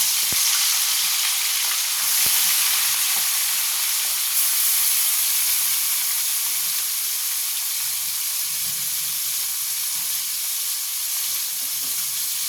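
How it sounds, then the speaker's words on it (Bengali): Small mourola fish fry in hot oil in a pan, a loud, steady hiss and crackle of sizzling throughout, with a couple of sharp clicks early on and no talking. "এবার আমি মাছ ভাজার জন্য দিয়ে দেবো।"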